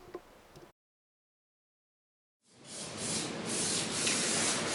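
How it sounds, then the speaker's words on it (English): Motorcycle brake pads have their leading edge chamfered by sanding: a brief rub, a gap of silence, then steady, close abrasive scraping that grows louder and continues alone. "chamfer the bottom edge or the leading edge of the brake pads"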